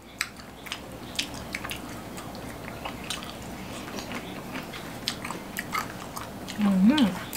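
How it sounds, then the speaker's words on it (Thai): Close, wet chewing and biting of peanuts in a Thai santol salad, a steady run of small crunchy, squishy mouth sounds over a faint background. "เคี้ยวถั่วที่ส่งเข้าไป"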